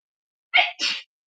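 A single sharp human sneeze, close and loud, with a quick two-part burst of an inhale catch and explosive release, surrounded by silence.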